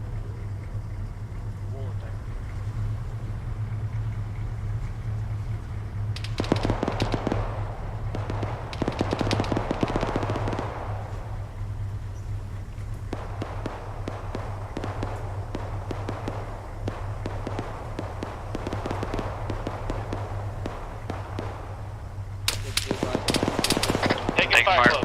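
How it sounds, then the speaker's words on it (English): Scattered gunfire and stray rounds crack in clustered bursts in the video game ARMA 3, some near and sharp, others softer, over a steady low engine-like drone with radio-style talk throughout. "Taking fire close. I'm pretty sure it's just stray rounds coming in through the smoke."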